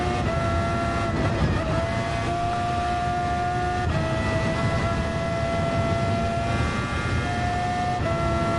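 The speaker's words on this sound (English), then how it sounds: "This car is supposed to be Senna's McLaren." The McLaren race car in Gran Turismo 7, modelled on Senna's car, drones with a steady high engine whine throughout, pitch shifting slightly as it holds speed, loud and continuous with no talk.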